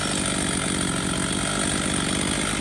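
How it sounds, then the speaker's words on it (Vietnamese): A Komatsu G3002 chainsaw runs steadily at idle or low throttle, a close, continuous buzzing two-stroke drone with no talking. "Một con cưa Komatsu G3002 này."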